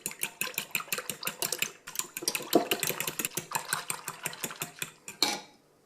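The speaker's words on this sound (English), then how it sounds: "add the olive oil and the 3 eggs to the water and whisk that together really well" Olive oil and eggs are whisked into water in a bowl: rapid, evenly spaced clinking strokes, close and steady, that slow briefly, then resume before stopping abruptly near the end.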